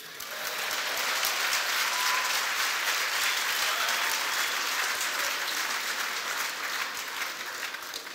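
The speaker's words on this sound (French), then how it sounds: "Vous pouvez l'applaudir." An audience applauds steadily at a French televised debate, a dense, sustained clapping that swells in quickly and holds at full strength, with no voices over it.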